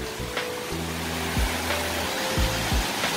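Yukdam Falls in Seoraksan, a waterfall over 40 metres tall dropping into a deep pool, gives a steady broadband rush of falling water, with a few low thumps from handling nearby.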